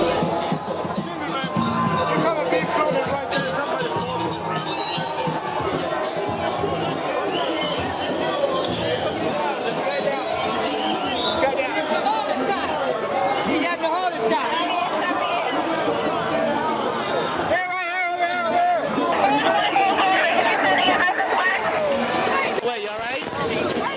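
A dense Mardi Gras street crowd chatters loudly and continuously, many overlapping voices forming a close, unbroken babble with occasional shouts.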